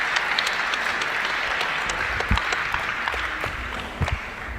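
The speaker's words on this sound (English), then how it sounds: "Everybody in the arena is on their feet applauding." A boxing arena crowd in Sheffield, on its feet at the end of a 63kg semi-final bout, applauds steadily after the bell, a dense wash of clapping with a few louder bursts and low thumps.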